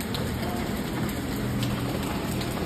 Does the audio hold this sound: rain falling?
yes